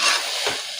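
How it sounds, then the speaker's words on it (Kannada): Tomato and masala frying in a pan, with a steady close hiss of sizzling oil and a brief stir partway through, no voices. "ಸ್ವಲ್ಪ ಟೊಮೊಟೊ ಇದೆಲ್ಲ ಫ್ರೈ ಎಲ್ಲ ಮಸಾಲೆ ಬೇಯಲಿ."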